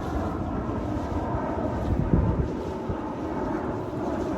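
Airplanes flying overhead near Steel Creek in Charlotte, North Carolina produce a continuous, broad low roar with gusty rumbling swells, steady and fairly loud throughout without any voices.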